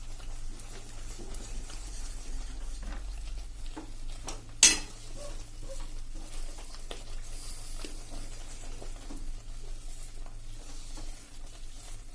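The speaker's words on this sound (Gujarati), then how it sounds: "ચમચો સતત આપણે ચાલુ જ રાખશું હલાવવાનો" A ladle keeps stirring besan and ghee over a medium flame for besan mesub, making soft scraping and gentle sizzling throughout, fairly quiet, with one sharp metallic clank partway through.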